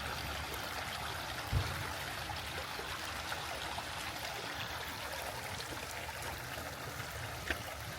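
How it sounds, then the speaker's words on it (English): Steady running water trickling and splashing in a garden area of a safari park, a continuous soft stream sound close by with a faint bump or two, no talking. "You could just sit in here and listen to that running water."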